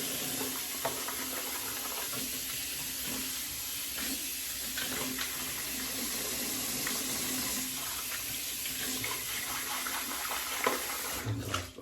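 Tap water runs steadily into a shaving bowl as it is rinsed out, a continuous close splashing hiss with a faint clatter near the end.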